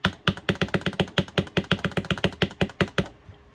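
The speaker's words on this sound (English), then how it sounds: "The SayoDevice and Wooting keypads have different click sounds." A fast burst of sharp Wooting keypad clicks, around twenty presses in quick succession, close and clear, then silence.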